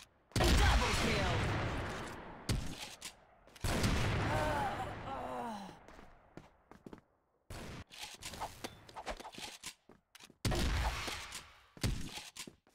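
Gunfire rattles through a shooter video game in bursts of loud, sharp volleys separated by gaps, with some breaking-glass crashes, gasps and scattered game sounds in between.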